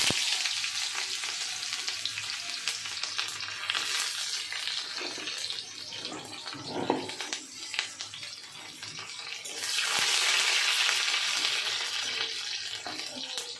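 Chopped onion fries in hot oil with nigella seeds, making a loud, continuous hiss and sizzle that briefly eases and then surges louder again as the pan is stirred.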